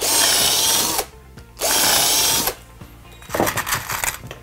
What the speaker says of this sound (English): A couple more pilot drills to stop the wood splitting in both ends.